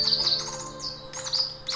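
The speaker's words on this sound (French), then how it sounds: "j'ai des oiseaux." A small bird chirps in quick, high, thin notes close by, against a quiet room with a faint steady hum and no talking.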